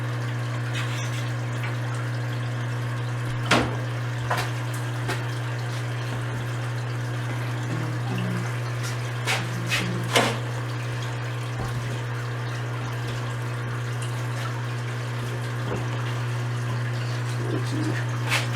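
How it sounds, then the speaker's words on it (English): Water runs steadily into a 125-gallon aquarium during an under-gravel filter install, a constant near hiss with a low hum and occasional sharp splashes or knocks, and no talking. "I'm going to have to shut the water off because the water actually moving these pretty good."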